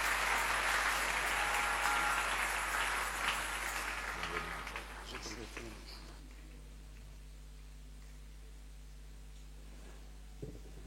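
A church congregation at a French-language service applauds loudly for about four seconds, and the clapping then thins and fades into a quiet room with a low steady hum.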